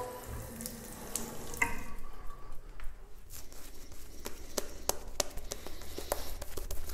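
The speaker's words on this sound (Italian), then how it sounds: "Goccino d'acqua nel ciuffo." Water runs from a tap onto a shaving brush during a wet shave, a steady splashing stream with small drips and pats, close and fairly loud, with no talking.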